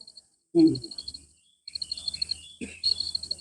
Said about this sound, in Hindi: देखिए कितनी सुंदर चिड़िया की आवाज सबको सुनाई दे रही होगी